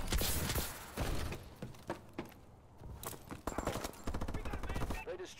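Sustained turret fire in the Call of Duty: Advanced Warfare video game, heard as bursts of rapid automatic shots with sharp impacts, loud and close, alongside other game effects and a player talking.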